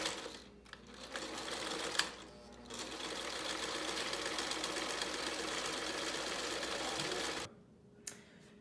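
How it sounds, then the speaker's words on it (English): Sewing machine stitching fabric for pop-up camper curtains, a steady continuous mechanical whir that runs for several seconds with brief pauses near the start, then stops, followed by a short click. "Now that we've got everything pinned up, we're ready to sew."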